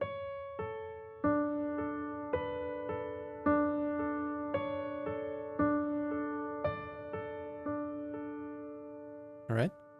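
A piano plays a right-hand pattern, repeated broken-chord notes in a steady pulse with a slowly changing top note, sustained and moderately soft, ending with a brief sharp noise.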